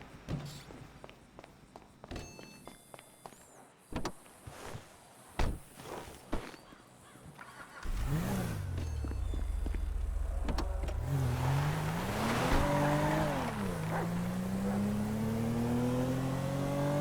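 A car in GTA V: footsteps and a door thud, then the engine starts and revs as the car pulls away and accelerates, the engine pitch rising and shifting through gears, loud and close.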